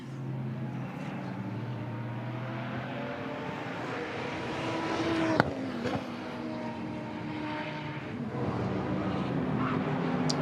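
Audi race car of the Lion Speed car collection on the Nürburgring Nordschleife, a sustained engine roar that builds as it nears and passes, then fades, with no talk.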